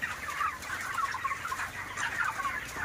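A flock of 28-day-old broiler chickens on a farm cluck and chatter continuously, a dense, busy layer of overlapping calls at moderate distance with no voices over it.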